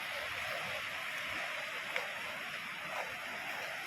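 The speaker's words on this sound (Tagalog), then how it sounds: "Lalaki ng alon, no?" Ocean waves at a seashore make a steady, faint, broadband hiss of surf, a continuous wash with slight swells and no voices.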